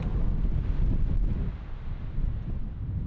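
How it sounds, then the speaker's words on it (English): Strong wind buffets the microphone outdoors on a Utah mule deer hunt, a steady low rumble with gusty swells and no voices. "It's quite windy here"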